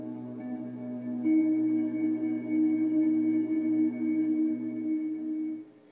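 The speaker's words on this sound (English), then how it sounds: "An example of an Eventide sound that I really like, it's called Echo Space of God." An Eventide 'Echo Space of God' echo effect on Mike Gordon's bass, a steady droning tone with layered sustained harmonics that swells after a second and holds evenly before trailing off near the end, with no voices.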